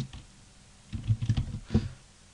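Brief clatter of typing on a computer keyboard while entering MATLAB code, a quick run of six or seven close, crisp keystrokes over a quiet background.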